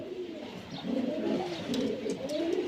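Pakistani high flyer pigeons coo close by in a steady run of low, throaty calls, several birds overlapping, with faint chirps above.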